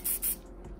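Spray paint splattered onto a Game & Watch poster in two quick, close hissing bursts, followed by a quieter tail of faint background noise.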